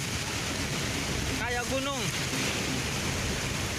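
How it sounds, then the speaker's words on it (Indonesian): Strong floodwater rushes through a housing estate in Pamengkang, Cirebon, as a dense, constant roar, while a voice briefly calls out over the noise midway. "video amatir warga saat derasnya arus banjir menerjang sebuah perumahan di kawasan Pamengkang, Kabupaten Cirebon"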